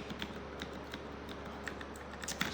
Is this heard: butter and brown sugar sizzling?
no